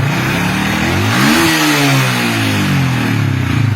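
A Yamaha Vixion motorcycle with a charging fault and non-working lights is revved hard, its engine note climbing and then falling back toward idle. The engine is loud and close, with no talking.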